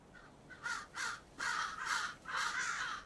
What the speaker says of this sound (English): Yes, I hear you, crows.